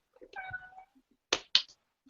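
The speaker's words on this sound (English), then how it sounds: "my cat's meowing at me" A house cat meows once, drawn out and moderately close, followed by a pair of short sharp sounds and quiet gaps.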